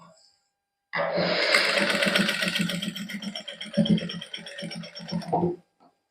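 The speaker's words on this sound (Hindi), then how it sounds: "ये उपर सिलाई ला देंगे" A sewing machine stitches lace onto a garment border with a close, rattling mechanical whir. It starts abruptly after a quiet second, runs for several seconds with brief dips, and stops.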